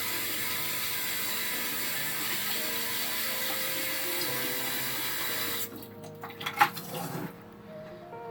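Grain is mixed and rinsed in a bucket of water, with steady rushing, sloshing water close by, then the flow stops and a few clunks and splashes follow.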